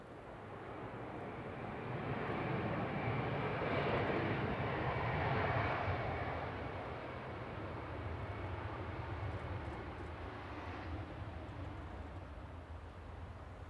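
An airliner inbound from Brussels at Manchester Airport gives off a broad, steady jet roar that swells over the first few seconds and then holds at a moderate distance. No voices are heard.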